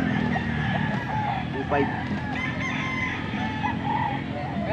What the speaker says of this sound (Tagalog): May tandang dito